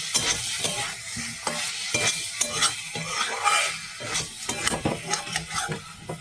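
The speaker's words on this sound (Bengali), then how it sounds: "এবার আমি আরেকবার নাড়িয়ে নিই ভালো করে" Mushroom curry being stirred in a frying pan: repeated scraping strokes of a utensil against the pan over a steady sizzle, close and fairly loud, with no talking.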